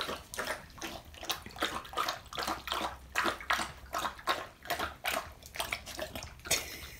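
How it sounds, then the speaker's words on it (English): A Siberian Husky splashes and thrashes through water, giving a run of irregular wet sloshing bursts close by, fairly quiet and without talk. "Sure, just throw the water everywhere."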